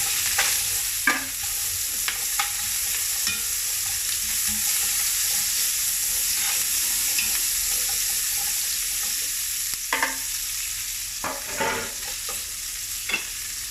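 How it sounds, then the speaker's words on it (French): Vegetables browning in a cast-iron pot, with a steady frying sizzle and hiss and scattered scraping clicks from stirring, close and continuous, with no talk. "dans la même cocotte, ben on vient faire colorer légèrement nos légumes"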